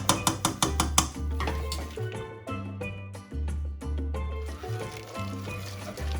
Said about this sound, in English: and again we're mixing it